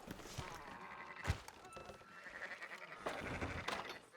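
Sheep in the Red Dead Redemption 2 video game bleat softly amid a herd, with a few quavering calls and faint thumps of hooves, all fairly quiet and close.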